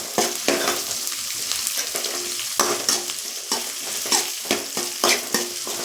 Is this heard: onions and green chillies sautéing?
yes